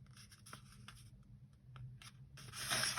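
Paper folded for an origami diamond box gives soft, faint creasing scratches and rubs in short separate strokes, ending in a louder rustling crinkle, with no talking.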